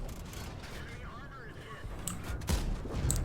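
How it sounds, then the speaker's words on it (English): Tank cannon fire from the Emil 1951, a tier 8 medium tank in World of Tanks, comes as a few sharp booming blasts over constant engine and battle rumble toward the end. "Let's try and unload some shots on this guy."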